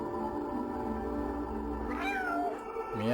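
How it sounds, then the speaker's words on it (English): A cat meows in a video game where the player controls a cat in a world of robots, the call sounding once near the end over a steady tonal game soundtrack. "Meow, indeed."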